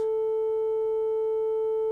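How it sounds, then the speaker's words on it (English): An online tone generator plays a steady, pure 440 Hz sine tone, the note A, held evenly and alone without any change for about two seconds. "the La has a frequency of 440 hertz"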